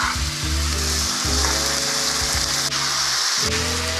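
Onions sizzling as they sauté in rendered beef fat, a dense, loud, continuous frying hiss with occasional stirring shifts and no talking.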